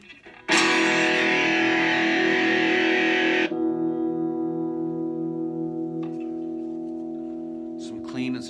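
A plucked, distorted three-string cigar box guitar strum rings loudly for a few seconds, then gives way to cleaner sustained notes with a long reverberant tail, ending with a few soft plucks.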